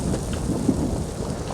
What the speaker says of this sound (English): I realize my weapon conducts lightning, but then having a fucking bolt just hit me.